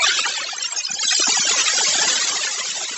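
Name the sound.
sonified recording of a solar storm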